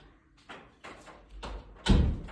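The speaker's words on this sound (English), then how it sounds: "I'm gonna shut this door." A door is pushed shut indoors, with a few soft rubbing and bumping sounds building to a heavier closing thud at the end, fairly quiet and close, with no talking.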